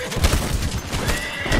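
A horse in the video game Red Dead Online, in the Lemoyne region, lets out a loud, shaky neigh over about two seconds, with a little hoof clatter mixed in and no talking.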